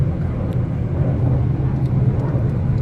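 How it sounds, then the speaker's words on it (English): Air Force jet passing over a drive near the seaport of Aqaba, Jordan, a steady low roar that holds throughout and blends with road noise from the car. "And there's a jet."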